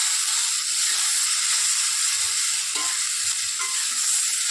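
Food is stirred in a frying pan after a little salt goes in, bringing a constant, close, hissing sizzle with faint scraping strokes of the spoon mixed in, and no one speaking.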